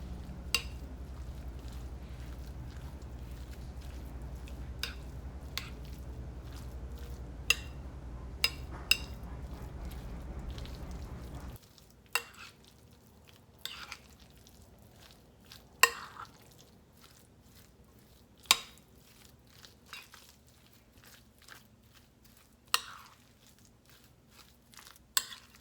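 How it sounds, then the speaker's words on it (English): A spoon works through potato salad dressed with mayonnaise and mustard, giving soft, wet squelching and occasional sharp clinks against the bowl, with a steady low hum in the background during the first half and quieter, intermittent scraping afterward. "Now we're going to go ahead and give this a mix and see if it's enough mayonnaise."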